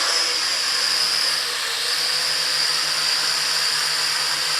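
A KAI DENG K60 HD mini quadcopter drone hovering and flying, giving a steady, dense whirring buzz of spinning propellers and motors, close and constant throughout with slight wavering, no voices.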